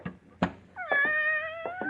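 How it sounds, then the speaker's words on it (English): A tortoiseshell cat meows nearby: two short chirps, then a long, clear, drawn-out meow that wavers before trailing off. "Philip, you didn't tell me you had a cat."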